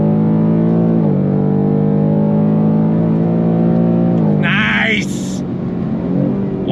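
A 2023 Ford Mustang GT engine accelerating hard on throttle, a loud rising V8 drone climbing steadily in pitch, with a brief shift near the end and someone speaking briefly.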